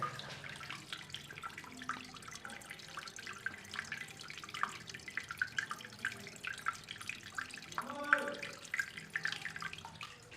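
Clear water trickling and dripping inside a cave at an ancient Shiva temple beside the Musi river, a steady close splashing with scattered distinct drops and no voices.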